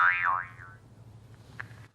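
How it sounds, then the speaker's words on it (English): Jaw harp, also called ruine babine, twanged once with a bright wobbling boing that bends up and down and fades, followed by a faint second twang, quiet and alone. "Some people call it a jaw harp"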